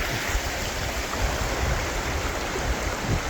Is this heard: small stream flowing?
yes